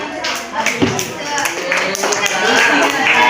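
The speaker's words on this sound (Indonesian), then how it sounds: "Beri tepuk tangan." Students in a classroom clap during an Islamic history lesson. The burst of clapping is close and fairly loud, mixed with scattered taps and room noise, and lasts about three seconds.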